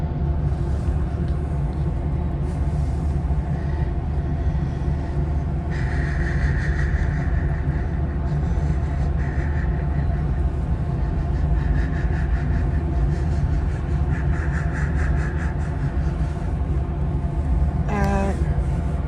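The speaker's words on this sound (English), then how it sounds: "here we are pulling into Oakland Coliseum Station to make our scheduled stop" Inside westbound Capitol Corridor train 543 as it pulls into Oakland Coliseum station: a loud, steady rolling rumble with faint higher whines and a brief squeal near the end.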